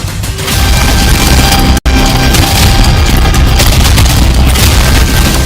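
A loud, deep explosion from a wartime blast in Ukraine roars with heavy rumbling that fills the whole stretch, cut off by one brief instant of silence before the din resumes.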